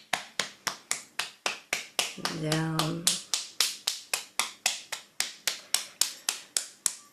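Steady rhythmic tapping of hands on the body, crisp and close, about three taps per second, briefly interrupted by a spoken word.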